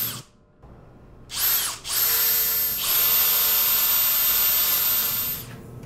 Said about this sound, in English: on the shelf upright sides, I drilled pilot holes to later use for screw alignment.